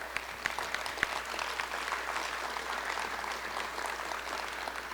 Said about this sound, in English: I believe that you're there because I heard clapping